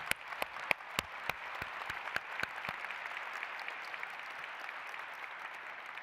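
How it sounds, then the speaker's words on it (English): Audience applause at a science awards ceremony begins with a few sharp, separate nearby claps, then builds into a steady wash of many hands clapping at moderate volume. "Let's give them a big round of applause."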